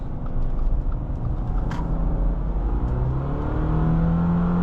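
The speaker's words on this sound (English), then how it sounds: "This is foot to the floor." A 2022 Subaru Forester Wilderness accelerating at full throttle, its engine droning loudly and steadily from inside the cabin, the pitch slowly climbing with road rumble underneath.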